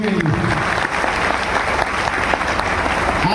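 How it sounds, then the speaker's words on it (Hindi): An audience at a DXN leadership meeting breaks into loud, sustained applause for their guru, a dense wash of clapping from a large crowd that fills the whole stretch without a break. "तो एक जोरदार ताली आपके अपने गुरु के लिए"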